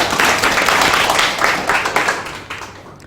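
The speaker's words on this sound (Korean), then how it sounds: "응원의 박수 계속 쳐주시면 감사하겠습니다" Clapping from a coding bootcamp class audience: loud, close, dense applause with fluttering rhythm that continues for a few seconds and starts to taper off.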